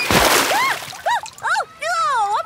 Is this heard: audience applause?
no